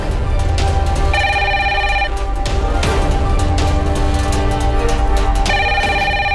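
A telephone rings insistently in a Turkish-dubbed TV drama, loud repeated electronic trilling bursts with a steady rhythm over a dense, busy background.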